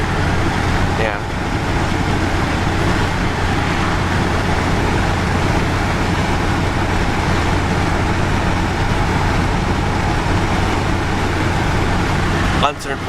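A car being driven while its owner tests a steering fault with excess on-center play; loud, steady interior road noise and low engine rumble hold throughout, with a brief click near the end.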